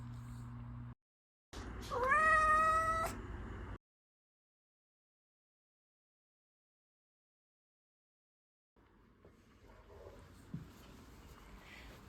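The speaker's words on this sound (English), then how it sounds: "So this is my life with the coon cats." Coon cats indoors: one clear, drawn-out meow up close after a short scuffle, then silence before faint household rustling and movement.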